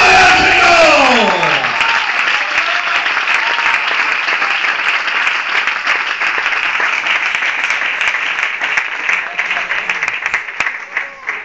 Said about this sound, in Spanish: ¡Aplaude al Señor!